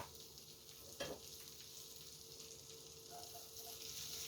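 Macaroni stir-fries in a pan of melted cheese for a macaroni cheese pizza, a soft steady sizzle with one distinct scrape of a spatula early on, quiet and close, without voices.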